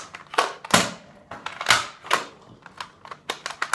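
Three sharp gunshots from a rifle being tested for accuracy and range, each a loud crack with a short decay, spaced about a second apart, followed by smaller mechanical clicks and clatter.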